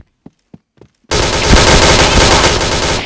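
Rapid automatic gunfire in a shooting video game erupts loud and close after a few sharp, spaced single clicks or shots, then roars in a sustained dense burst to the end.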